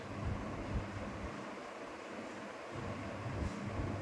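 Curry broth for a vegetarian ridge gourd and potato dish bubbling steadily in a pot, a continuous low rumbling boil with a soft roaring wash throughout, close and alone.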